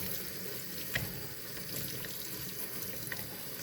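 Water is poured onto potted phalaenopsis orchids, a soft steady hiss and trickle close by with a couple of brief splashes, no talking.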